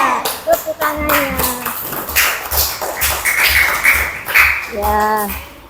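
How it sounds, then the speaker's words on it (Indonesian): A classroom of pupils claps hands in a rhythmic cheer pattern, with loud bursts of clapping and thumps mixed with children's voices and a teacher's singsong talk throughout. "Tepuk tangannya."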